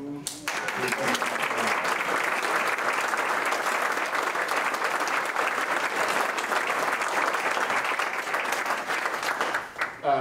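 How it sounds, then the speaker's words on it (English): A large audience at an Independence Day philharmonic concert gives sustained, dense applause that stays loud and even for about ten seconds, with a voice briefly audible near the start. "would you stand up and receive applause also?"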